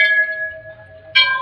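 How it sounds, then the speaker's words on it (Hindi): Temple bells ring at the Golu Devta temple in Nainital, a clear sustained metallic tone fading away before a second bright strike rings out near the end, close and fairly loud. "ये हमारे पुत्र हैं जो घंटियों को बजाते हुए जा रहे हैं।"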